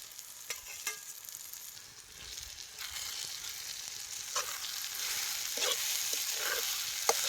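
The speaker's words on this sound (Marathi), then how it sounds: "कच्च्या मिरच्या चेचल्या होत्या त्यांना आता त्याला चांगले भाजून घ्यायच्या" Crushed green chillies and garlic roasting in a pan with onion and tomato for a spicy dried-fish thecha, a continuous sizzle with intermittent stirring clicks and scrapes, close and alone.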